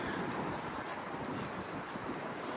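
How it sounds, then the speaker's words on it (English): Steady wind blows across the microphone in Matsue, Japan, in a continuous low roar, with no breaks and no voices. "It's windy in Matsue."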